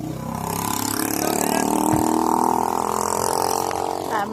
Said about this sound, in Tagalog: Oh, may barko.